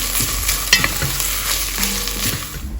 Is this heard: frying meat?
yes